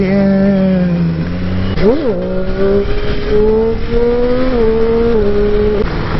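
A motorcycle accelerates hard for a wheelie on a road, its loud close engine climbing in pitch, dipping with a gear change, then pulling steadily upward under rushing wind.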